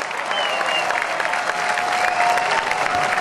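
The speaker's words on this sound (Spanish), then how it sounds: "Démosle un aplauso a la gran familia UDES." Sustained applause from a large audience at a university rector's presentation ceremony, dense and steady throughout, with a faint tonal hum or whistle running underneath.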